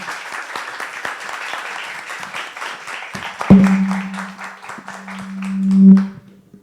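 A lecture audience claps warmly for a researcher, brisk scattered hand claps that thin out midway, while low sustained tones rise twice toward the end as the clapping fades.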